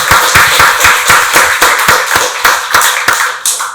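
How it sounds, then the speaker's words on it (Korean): A church congregation at a Sunday worship service claps together, a loud, dense patter of many hands with a loosely rhythmic pulse and no talk over it. "박수로 하나님께 영광 돌리겠습니다"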